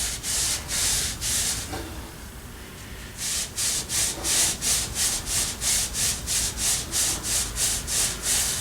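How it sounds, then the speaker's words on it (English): Rhythmic abrasive scrubbing of a Scotch-Brite pad against a metal axle seal surface, steady back-and-forth strokes near and loud, with a short pause before the strokes resume at a quicker even pace. "I like to Scotch-Brite my seal surface off, just to make sure I've got a nice spot for my seal to ride"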